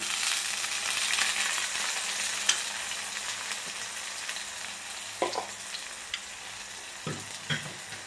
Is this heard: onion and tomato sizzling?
yes